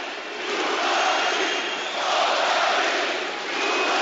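A big boxing arena crowd chants for the Bulgarian heavyweight Kubrat Pulev, a dense steady roar of massed voices that swells in waves with no single voice standing out.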